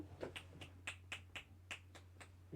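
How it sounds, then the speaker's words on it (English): Hands clapping repeatedly to get a deaf dog's attention during a live game-engine coding session, about ten sharp, fairly quiet claps in an uneven rhythm over a steady electrical hum. "I'm going to clap at him."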